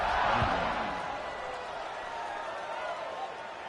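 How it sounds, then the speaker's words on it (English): Steady crowd noise from a college football video game stadium hums broadly and continuously, a dense wash of many voices with a slightly louder swell at the start, no distinct claps or chants standing out. "this crowd is buzzing after that last score"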